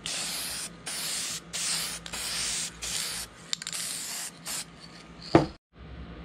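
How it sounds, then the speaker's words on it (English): An aerosol can hisses in a series of short, even bursts, giving a light mist onto a shark-head mask mold, followed by a brief clatter near the end. "Shake well and give it a light mist."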